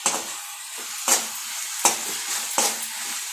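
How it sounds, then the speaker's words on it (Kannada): Raw plantain frying in a pan, a close steady sizzle broken by about four sharp scraping stirs of a utensil against the pan, no talking. "ಚೆನ್ನಾಗಿ ಫ್ರೈ ಆಗಲಿ"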